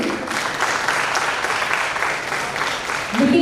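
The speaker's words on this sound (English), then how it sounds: "So please, a very big round of applause to him." A seminar audience breaks into a full round of applause, dense steady clapping that fills the room for several seconds at a loud, even level.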